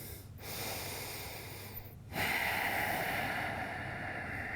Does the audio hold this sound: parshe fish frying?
no